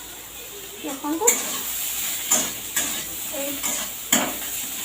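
Soybeans fry in a pan with a steady sizzle while a spoon stirs and scrapes them in repeated short strokes, close up, and a voice speaks briefly.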